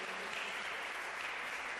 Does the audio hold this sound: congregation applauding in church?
yes